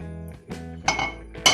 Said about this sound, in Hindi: प्रेशर कुकर को बंद करूंगी।